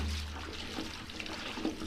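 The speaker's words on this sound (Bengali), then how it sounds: "এবার হচ্ছে ধুয়ে নেব।" Water runs and splashes while cut jackfruit pieces are washed in a home kitchen, a steady close rushing flow with small sloshing bursts and no talk.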